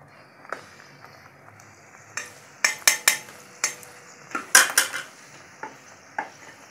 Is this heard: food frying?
yes